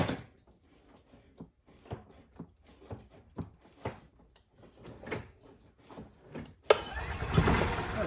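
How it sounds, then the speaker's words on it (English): A scatter of clicks and handling knocks comes first, then the engine of a 2009 Club Car Precedent golf cart in neutral bursts into a loud, close, steady roar. "You can press the pedal, and it will run the engine in neutral."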